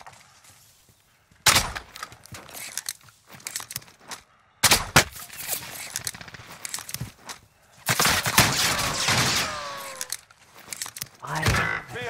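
Enemy gunfire in Call of Duty Warzone, sharp bursts and rapid volleys of shots, some close and loud, others more distant, separated by quieter gaps with footsteps and clatter.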